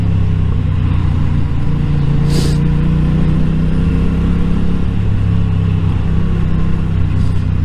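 A steady, loud engine rumble with road noise from heavy nearby city traffic, continuous and unbroken, with a brief passing whoosh midway.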